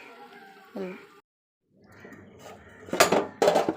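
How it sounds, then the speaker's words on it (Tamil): A lid lifted off a pan of beetroot poriyal, followed by a pause and then metallic spoon scrapes and clanks as the vegetables are stirred, close up, with a voice talking at the start. "அந்த மூடி எடுத்துக்கிட்டு நல்லா கிண்டி விட்டுருங்க"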